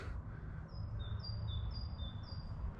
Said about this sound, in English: That's a great tit.